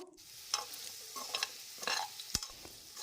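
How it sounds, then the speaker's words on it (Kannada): Potatoes frying in oil in a kadai, a soft continuous sizzle with several quick stirring scrapes, close but fairly quiet. "ಎಣ್ಣೆಯಲ್ಲಿ ಆಲೂಗಡ್ಡೆನ ಸ್ವಲ್ಪ ಫ್ರೈ ಮಾಡ್ಕೋಬೇಕು"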